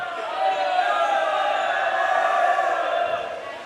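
Crowd noise fills a basketball gym during a youth league playoff free throw, fans yelling to distract the shooter; a steady, dense roar that holds throughout without letting up.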